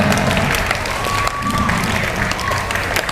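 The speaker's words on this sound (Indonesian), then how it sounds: "Tepuk tangan untuk anak laki-laki yang tulisannya bagus dan rapi ya." Children clap their hands together at a Thursday morning religious talk, the clapping blended into a loud, continuous crowd noise with chatter mixed in.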